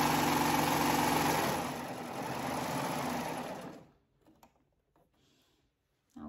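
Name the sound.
serger sewing machine serging off fabric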